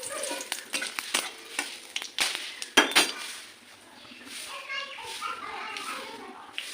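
Whole garam masala, dried chilli, bay leaf and cumin are dropped into hot oil for paneer masala, with sharp clinks and scraping early on, then a softer, steady sizzle.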